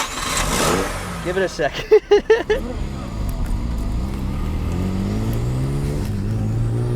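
A small rotary-engine car cranks in several quick stuttering bursts, catches, and settles into a steady, buzzy idle heard from inside the cabin; a person speaks briefly during the start.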